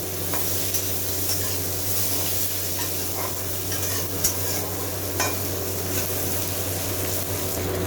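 Tomatoes and green chillies frying together in a pan for a Bengali katla fish kalia paste, a steady close sizzle with occasional stirring scrapes throughout, no talking.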